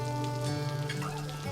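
Rain falling steadily, a dense close patter and hiss that continues without a break, with quiet sustained music tones beneath it.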